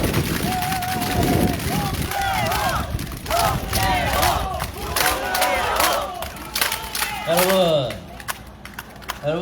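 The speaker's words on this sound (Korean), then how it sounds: "국회의장 자문위원장을 맡으신 우리 송재호 의원님을 뜨거운 박수와 함성으로" A large outdoor crowd at a Korean election campaign rally in a five-day market cheers and applauds loudly, with shouts and whoops rising and falling under an amplified announcer's voice.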